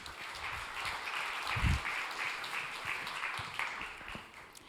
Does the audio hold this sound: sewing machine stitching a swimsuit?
no